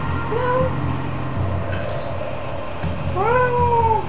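A voice imitates a cat meowing during a gaming session, two drawn-out rising and falling meows spaced apart, loud and close over a low background hum.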